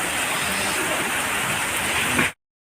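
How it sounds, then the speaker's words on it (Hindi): Heavy rain pours down outside a house, a dense, loud, steady hiss close by with no voices, ending abruptly after about two seconds. "कितनी भयंकर बारिश हो रही है।"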